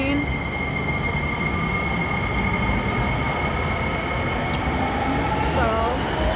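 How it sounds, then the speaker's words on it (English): A train pulls away from a station platform at a Disney resort, a steady loud rumble of rail cars with faint squealing tones, continuous throughout and close by. "the train is going"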